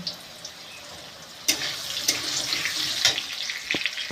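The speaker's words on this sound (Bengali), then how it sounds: "আলু ভাজছি আলুগুলো লাল লাল করে ভাজা হয়ে গেছে" Potatoes frying in a pan for a Bengali pui shak curry give a steady, close sizzle, with a few sharper clicks and scrapes from about midway.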